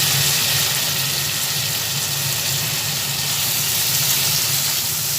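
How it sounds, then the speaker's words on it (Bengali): Chopped tomatoes frying in oil with other ingredients for ghugni, producing a continuous, even, close sizzle and hiss throughout. "টমেটোটা দেওয়ার পরে আবার ভালোভাবে তেলের মধ্যে সব দিয়ে ভেজে নিচ্ছি"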